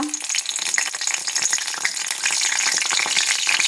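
Dried red chilies and a bay leaf crackle and sizzle in hot oil in a kadai, a loud, steady hiss with dense popping throughout, no voices.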